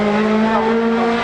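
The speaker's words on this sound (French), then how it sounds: "Alexandre Delas s'est lancé avec la Honda." A Honda race car climbs a hill during a French hill climb event, its engine a loud, steady drone held close by for a short moment.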